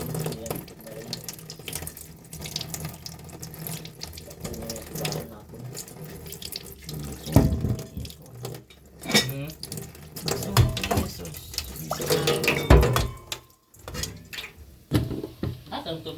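Water runs from a tap into a kitchen sink in a continuous splashing stream while Filipino pork stew is being cooked, with clinks of dishes and a person talking over it.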